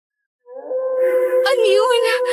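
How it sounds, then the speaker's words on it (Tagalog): Outside a hut at night, a dog lets out a long, wavering howl that rises from silence and holds loud and close, with a slight waver near its end. "Ngayon ka lang ba nakarinig ng umaalulong na aso?"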